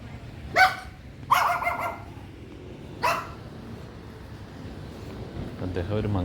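Dogs at a Buddhist temple in Thailand bark in three short bursts, mid-distance and fairly loud, over a low outdoor background.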